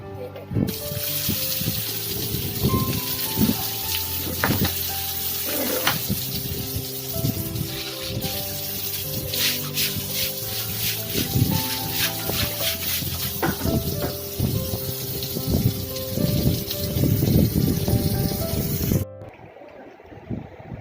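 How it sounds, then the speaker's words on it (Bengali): Water runs and splashes steadily during household washing, a close, continuous rushing trickle with some clattering, lasting most of the clip before cutting off abruptly near the end. "এখন এখানটা ধোয়া হচ্ছে"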